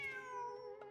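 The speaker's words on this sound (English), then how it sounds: "Wait, there it is! The cat!" A cat meows in the video game Genshin Impact, one drawn-out, clear meow heard alone with nobody talking.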